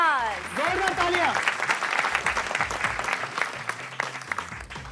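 Studio audience on a couples game show breaks into steady applause for a pair reaching the quarter-finals; a host's voice rises briefly over the clapping at the start, then the dense clapping carries on alone.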